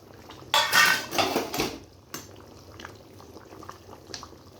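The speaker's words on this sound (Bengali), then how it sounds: "এবার মাছগুলো দিয়ে দেবো আমি।" Fish pieces drop into a simmering mango fish curry in a pot, with a burst of clattering and sizzling splashes, then quieter bubbling and a few light clinks of utensils.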